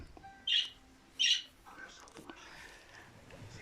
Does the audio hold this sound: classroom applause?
no